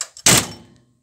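A metal Bombardier snowmobile door is forced in a bending jig, a single sharp metallic thunk followed by a short ringing decay, preceded by faint small knocks, close and loud.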